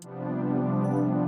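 Piano chord with its major third raised to a fourth, a single sustained harmonic chord held steadily and evenly for a little over a second, alone.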